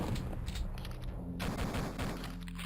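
Rapid bursts of gunfire from the Duke Nukem 3D video game, dense and continuous with a brief break midway, loud and close with no voices.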